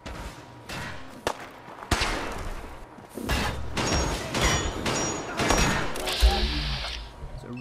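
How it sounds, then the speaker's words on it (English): Gunfire in the video game Fallout 4: several loud, sharp shots and bursts go off unevenly, with thuds and crashes between them and a sustained noisy blast near the end. "I hear gunfire once again."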